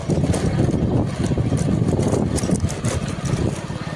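A tractor engine running while being driven along a farm road near Khambhala village, a loud close rumbling drone with steady pulsing throb throughout.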